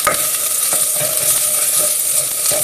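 Rice and sausages sizzle and fry in a pan on low heat as a utensil stirs them, giving a steady, close crackling hiss with soft scraping pulses.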